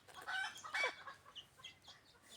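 A decoy hen chicken gives a couple of sharp, loud calls and then softer scattered clucks, close and alone with no talk.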